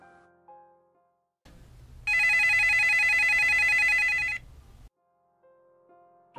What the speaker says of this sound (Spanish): El estridente sonido del teléfono la despertó a las 12:30 de la noche